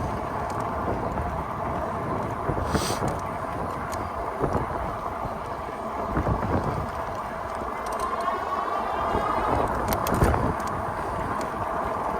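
Steady, loud wind buffeting roars throughout an ebike ride near Spring Lake on a windy day, with a few sharper gusts and rustles breaking through the constant rumble.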